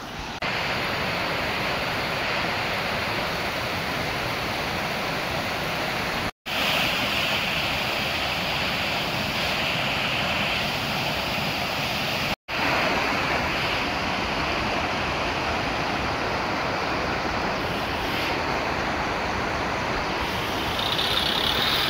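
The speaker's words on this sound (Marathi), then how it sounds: "पुढे धबधबा आला आहे खूप जवळ" Savatsada waterfall near Chiplun in Konkan roars in a dense, loud and continuous wash of falling water heard close by, with no voices over it.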